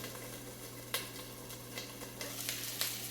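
Salmon and asparagus sizzle in a frying pan with a steady hiss, broken by occasional brief louder pops and spatters, close by with no talking.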